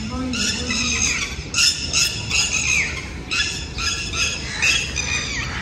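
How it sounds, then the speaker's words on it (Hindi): Birds chirp and squawk in a village in the evening after rain, bursts of bright calls coming in repeated clusters, fairly close, over a soft steady background. "सुन के खूबसूरत से परिंदों के चहचहाने की आवाज़ें"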